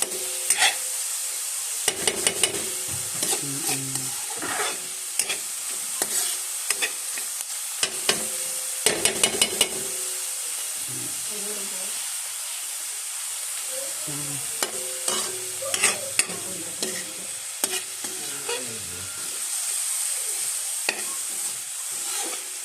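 An egg fries in a pan, a steady low sizzle running under intermittent sharp clinks and scraping of a utensil against the pan, with a few quick clustered taps; close by and without talking.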